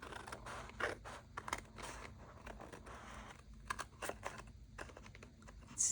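Scissors trimming around collage paper pages, a series of crisp close snips and paper rustles in an uneven rhythm, fairly quiet with no talk.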